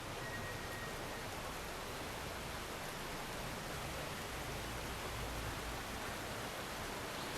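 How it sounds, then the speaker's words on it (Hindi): Water rushes steadily below at Dudhsagar waterfall, a constant broadband roar that stays faint and even throughout with no voices. "आप देख सकते हो नीचे से पानी बह रहा है"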